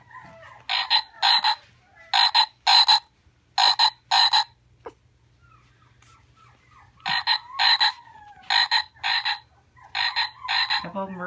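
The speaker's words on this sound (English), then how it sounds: "let's start with a frog" Loud, close frog croaks in quick paired bursts, repeated in clusters with a silent gap in the middle.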